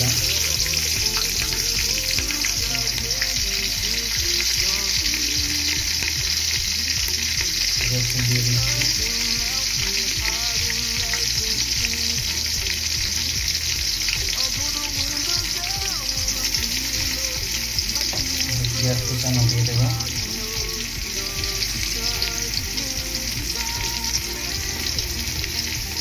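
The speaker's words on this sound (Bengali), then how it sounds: "এরপরে আমি পেঁয়াজ, মরিচ, রসুন সব কিছু দিয়ে দেবো, দিয়ে ভাজি করে নেব" Onion, chili and garlic fry in hot oil with a dense, continuous sizzle, close and loud, and occasional stirring scrapes sound under it.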